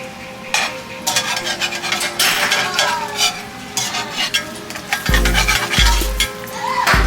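Corn tortillas frying in hot grease in a pan for beef enchiladas give a steady, close sizzle with occasional clinks and scrapes of a utensil as they are flipped.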